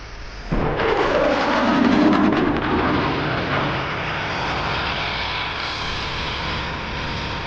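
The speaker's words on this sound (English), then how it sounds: "accelerate rapidly and snap the F-16 through a series of aileron rolls" An F-16 Fighting Falcon fighter jet at an airshow thunders past at max power, a loud sustained broadband engine roar with a rising swell early on, then a steady far-reaching rumble for several seconds.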